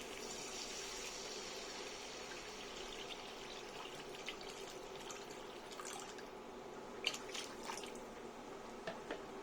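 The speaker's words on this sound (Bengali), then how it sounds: "এবার আমি জল দিয়ে দেব" Water poured into a wok of curry with peas and spices cooked in oil, a steady close splashing and gushing wash with a few brief drips and clinks, no talking.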